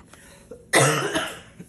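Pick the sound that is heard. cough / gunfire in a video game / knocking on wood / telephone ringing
cough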